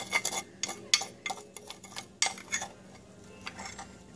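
A spoon stirs glitter in a small container, giving a quiet run of irregular scraping clinks and taps that thin out toward the end, with no talking.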